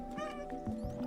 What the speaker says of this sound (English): Oh, and of course we have the Meow button, one of the greatest things to ever grace gaming.